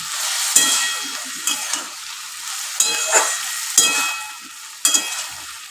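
Onions frying in a pan for fish kalia give a soft, continuous sizzle. Several sharper bursts of stirring and spatula scraping rise above it at irregular intervals, with no voices.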